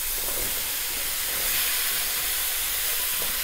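Asparagus pieces hit a hot sauté pan with a loud, steady hiss of sizzling that holds evenly across the whole moment, close up and with no talking.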